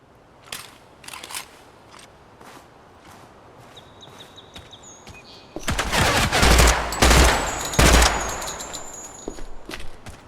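Rifle gunfire from 5.56 and .30-06 rifles being test-fired: faint distant pops early, then from about halfway several loud, close, sharp shots in quick succession with strong low-end blasts.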